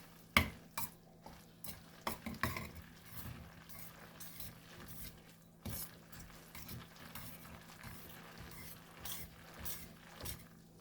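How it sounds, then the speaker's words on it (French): Cacio e pepe pasta is stirred in a pan, giving soft wet scraping and clinking of a utensil against the pan in irregular strokes, close and fairly quiet throughout. "Et je remue."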